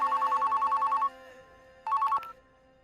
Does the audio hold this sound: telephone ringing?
yes